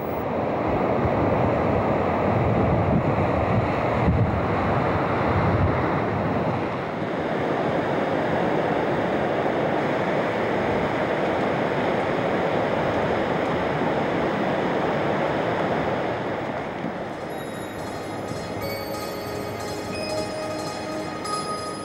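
Rough monsoon surf at Cox's Bazar beach makes a continuous, heavy roar of breaking waves with wind buffeting, and no voices are heard.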